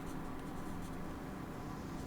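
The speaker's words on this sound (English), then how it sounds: "Guess I'll write right here." A Pentel Orenz pencil writing on paper gives a soft, close, continuous scratching with small stroke-by-stroke variations, quiet and without speech.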